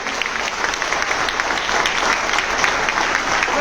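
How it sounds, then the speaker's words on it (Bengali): Loud applause fills a hall during a gift-presentation ceremony, a dense, sustained clapping from an audience that holds steady throughout. "জোরে হাততালি।"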